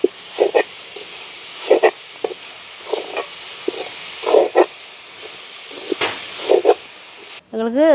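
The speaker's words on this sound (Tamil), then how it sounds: "இப்படியே நல்ல வடிவாக சர்க்கரையோடு கலந்து விட வேணும்" Grated coconut is mixed with sugar by hand or spoon, giving a series of soft rhythmic scraping and rustling strokes at close range, with a brief tonal noise at the very end.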